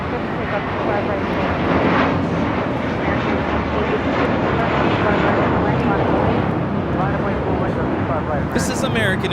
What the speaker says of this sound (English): This is American Airlines Flight 4 taking off to JFK on an Airbus A321